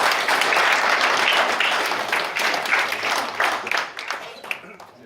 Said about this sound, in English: let's get a round of applause for Jeff.